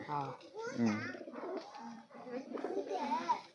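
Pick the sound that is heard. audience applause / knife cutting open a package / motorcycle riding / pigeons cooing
pigeons cooing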